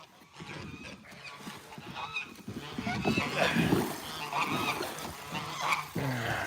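Many geese honking together at an animal sanctuary in a noisy, overlapping chorus, loud and continuous and rising in the middle, with some background voices mixed in.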